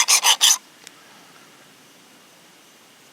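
A knife blade is drawn across the abrasive stone of a Work Sharp Precision Adjust sharpener in three quick rasping strokes, followed by near silence and a faint click.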